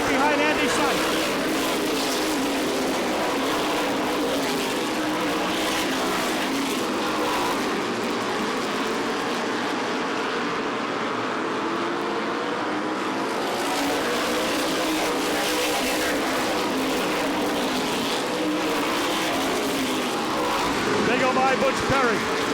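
Modified race cars roar past together at Star Speedway during a True Value Modified Racing Series event, a dense, loud engine drone sustained throughout with a commentator talking over it.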